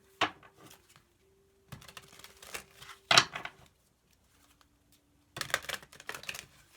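Tarot cards are shuffled by hand at close range in three or four short, papery bursts of riffling and flicking, separated by quiet pauses.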